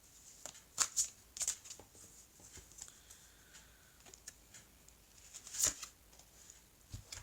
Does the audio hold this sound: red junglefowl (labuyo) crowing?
no